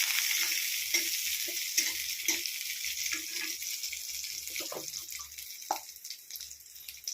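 Pistachios, almonds, raisins and bay leaves frying in mustard oil over low heat for masala murmura, a steady soft sizzle with small stirring clicks and scrapes throughout, no talking.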